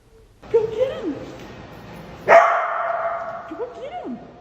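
A dog gives a few sharp, close barks and yips with some whimpering, separated by pauses; a person's voice is also heard.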